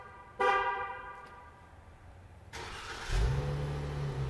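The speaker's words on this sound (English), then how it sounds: "Has a really nice exhaust note to it." A 2018 Chrysler 300's horn chirps briefly as it is remote-started, then the engine cranks and catches, settling into a steady low idle nearby.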